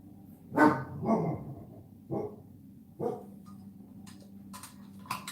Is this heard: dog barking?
yes